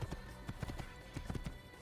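Horse hooves clip-clop in a quick, uneven gallop rhythm while riding through a crowded street in the Assassin's Creed video game, fairly faint and with no talk over them.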